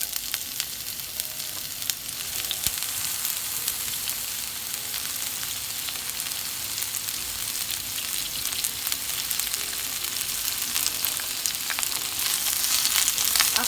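Onions for chicken biryani sizzle in hot oil in a pan, a dense, even crackle that holds steady and close throughout with no talking.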